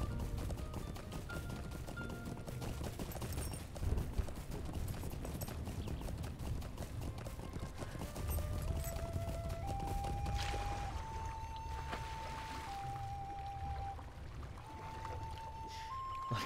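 A horse's hooves clip-clop steadily as it is ridden in the game LOTRO, with a soft, even rhythm under rising, tinkling musical tones.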